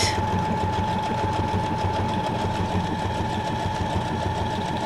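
A sewing machine stitches through paper, running steadily, its needle driving in a fast, even mechanical rhythm with a constant motor hum, close by and with no talking.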